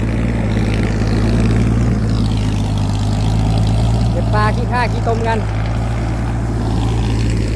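A loud, steady tractor engine drones with a low rumble throughout while ploughing a rice paddy, as a person speaks briefly in the middle over the noise.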